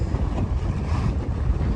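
A Mirror 16 sailing dinghy surges through choppy sea off the Isle of May, with steady, close wind rumble and water rushing and splashing against the hull, with no voices.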